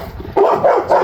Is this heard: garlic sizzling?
no